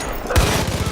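Grenade launcher firing in Far Cry 5, a single loud, close, heavy boom with a deep low thump and a broad blast that carries on as rumbling debris and reverberation.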